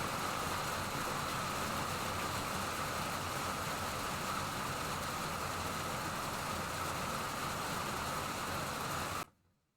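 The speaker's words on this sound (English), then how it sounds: "it is raining sideways outside right now" Heavy wind-driven rain falls outside on the trees around a garage, a dense, steady hiss with a low rumble underneath that holds at an even level before cutting off abruptly near the end; no one speaks.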